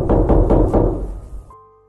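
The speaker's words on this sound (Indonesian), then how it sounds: "sosok itu nampaknya justru semakin menggodaku dengan mencoba mengetuk-ngetuk pintu" Knocking on a door in a quiet room: four heavy, booming knocks in quick, even succession, close and loud, then the resonance fades into silence with no talk.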